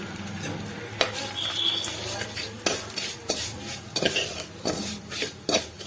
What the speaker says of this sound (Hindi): अब इसमें हम सेवई भून लेंगे